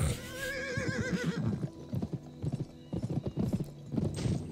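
Horse hooves clip-clop in a fast galloping rhythm in the PS2 video game Gun, with a whinny at the start and repeated hoofbeats close and loud throughout.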